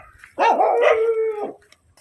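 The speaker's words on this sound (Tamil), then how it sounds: "இல்லை நாய் கத்துமேங்கிறக்கா யோசிச்சேன்." A dog on a dairy farm lets out a single drawn-out, wavering bark that bends toward a howl. It lasts about a second, is fairly close, and sits against quiet surroundings.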